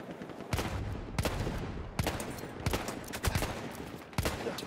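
Gunfire in the Battlefield 1 video game, rapid overlapping shots and bursts in a dense, continuous volley with blasts punching through, fairly quiet overall.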